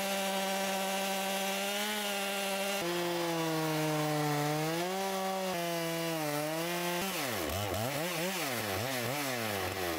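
A portable mobile sawmill cuts a tree trunk into thick wooden planks, its engine and blade whining steadily and loudly, with the pitch sliding up and down as the cut load changes. No voices.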